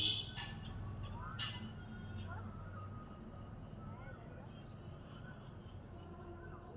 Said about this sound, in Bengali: চারিদিকে পাখির ডাকটা শুনতে পাচ্ছেন?